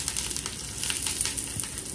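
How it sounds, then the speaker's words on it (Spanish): Chopped onion frying in oil makes a continuous, close, crackling sizzle with fine popping throughout, heard alone. "Le agregamos un poquito de aceite. Agregamos un poco de cebolla picada."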